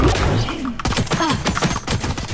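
Rapid bursts of gunfire from the shooter game Valorant, played in a tournament match, ring out as repeated sharp cracks in quick succession, loud and close, with a brief quieter lull at the start.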